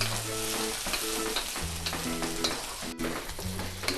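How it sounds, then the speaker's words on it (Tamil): Capsicum and onions for honey chilli potato sizzle and fry in a pan, with steady crackling and occasional stirring scrapes over a faint tonal background. "இது நல்லா ஃப்ரை ஆகிட்டு இருக்கு"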